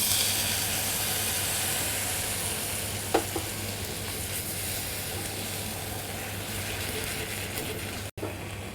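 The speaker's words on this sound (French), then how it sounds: "Je vais rajouter mon échalote qui est finement ciselée." Finely chopped shallot and a splash of white wine sizzle steadily in a hot pan, a close, continuous hiss with a low hum underneath and a brief clack near the end.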